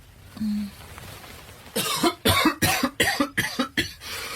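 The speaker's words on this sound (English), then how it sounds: "As I hear him coughing in his room." A man coughs repeatedly in his room in a harsh burst, about six or seven rough coughs in quick succession, close and loud after a quiet moment.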